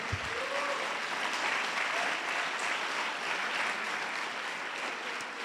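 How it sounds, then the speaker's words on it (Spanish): A church congregation claps together in steady, dense applause that fills the room for several seconds, loud and continuous with no voices standing out. "Dale un aplauso al Señor."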